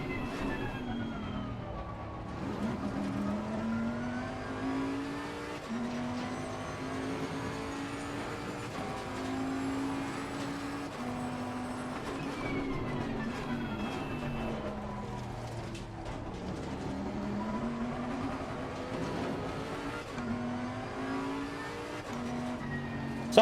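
A race car engine in the Assetto Corsa Competizione video game revs up through the gears over and over, its pitch climbing and dropping in steady waves, sustained and fairly even, with no talking.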